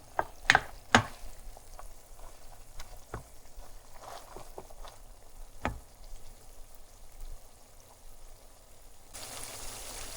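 Ground beef for Tex-Mex burritos browns in a pan on the stove, giving a steady close sizzle with a few sharp spatula clacks and scrapes near the start as the meat is stirred and broken up.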